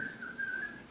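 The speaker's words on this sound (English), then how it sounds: "And he was whistling." A man whistles a short, thin, steady tone of about a second that wavers slightly in pitch, heard faintly over a quiet room background.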